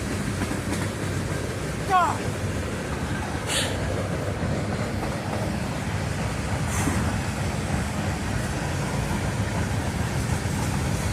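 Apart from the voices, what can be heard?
train passing close by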